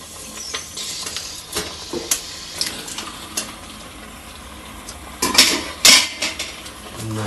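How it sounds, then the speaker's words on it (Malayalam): Chicken is stirred into thick Kerala-style green pepper curry gravy in a pan, with a spoon scraping and clanking against the metal in irregular strokes over a soft sizzle. "നല്ലോണം ഇളക്കി കൊടുക്കാം."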